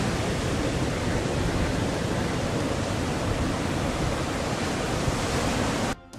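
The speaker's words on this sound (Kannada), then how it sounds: "ಅಲೆಗಳ ಅಬ್ಬರ ಕ್ಷಣ ಕ್ಷಣಕ್ಕೂ ಸಹಿತ ಹೆಚ್ಚಿಗೆ" Rough sea whipped up by Cyclone Montha roars along the coast under winds of about 50 km/h. A dense, unbroken rush of surf and wind-noise continues loudly until it cuts off abruptly near the end.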